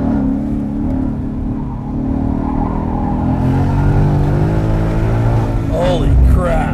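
A stock Ford Mustang GT V8 is driven hard around a short course, its engine droning steadily and then rising in pitch as it accelerates, with people talking over the sound.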